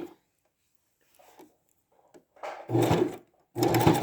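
A sewing machine runs in two short, firm bursts as it sews a back stitch on a scrunchie-style round fabric bin. A few faint clicks and handling sounds come first, in a quiet room.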